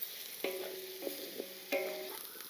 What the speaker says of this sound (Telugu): ఉల్లిపాయ పచ్చిమిరకాయలని బాగా వేయించుకోవాలండి. అవి ఏగుతుండగానే కొంచెం కరివేపాకు వేసుకుందాం.